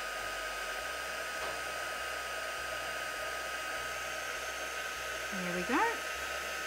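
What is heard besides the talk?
heat gun blowing for embossing on card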